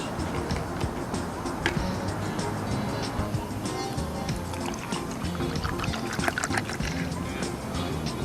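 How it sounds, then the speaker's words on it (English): Benjamin Moore Finish Remove deck-prep product is poured into a container of clean water, producing a steady close splashing and gurgling that runs continuously. "now I'm just going to add the Finish Remove product"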